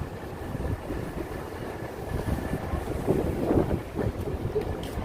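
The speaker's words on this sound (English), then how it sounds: "It's getting slightly windier, but not too bad." Evening wind gusts along an Upper West Side street near West End Avenue and West 72nd Street in New York City, making a steady low buffeting rumble with faint city noise underneath.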